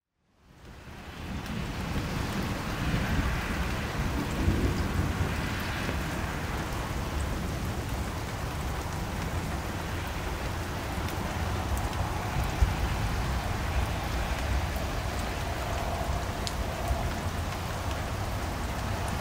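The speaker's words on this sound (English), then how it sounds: "It's been a rainy day." Steady rain pours outdoors in Seattle, a dense, even hiss that continues unbroken for the whole stretch at moderate level with no voices.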